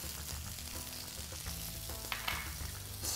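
Seasoned new potatoes fry in a pan, a continuous soft sizzle with a low hum beneath and a few clatters as they are tossed, close by and unaccompanied by speech.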